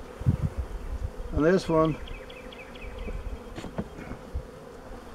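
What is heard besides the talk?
honey bees buzzing while shaken off a hive frame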